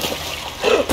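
A brief water splash in the side-scrolling video game Inside, rising to a fuller slosh near the end of a second-long moment, with no voices.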